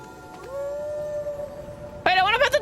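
Torgal, the wolfish dog companion in Final Fantasy XVI, lets out one long, steady howl, and a voice starts talking right after it ends.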